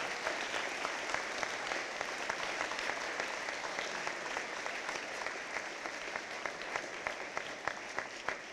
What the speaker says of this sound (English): But one more round of applause, please, and a big welcome home to these veterans.